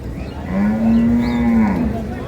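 A dairy cow at a rural cattle market lets out a single long, low moo close by, lasting over a second amid a murmur of market background noise.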